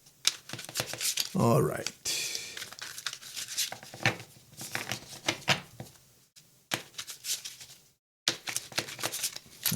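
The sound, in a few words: shuffling a brand new tarot card deck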